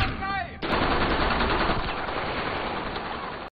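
Sustained machine gun fire from a war film depicting German troops ambushing British soldiers, a dense continuous roar of rapid shots lasting about three seconds after a brief opening sound, loud and close, cutting off abruptly.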